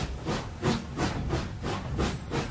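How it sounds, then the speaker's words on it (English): An old steam train chugs slowly down the track, with regular rhythmic puffs about three per second, each a breathy hiss of moderate loudness. "The train chugs slowly down the track."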